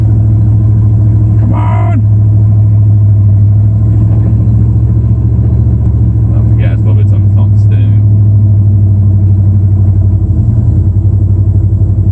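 A pickup truck stuck in snow in two-wheel drive drones loudly with a low, steady engine rumble, the engine labouring without much change in pitch while someone speaks briefly over it.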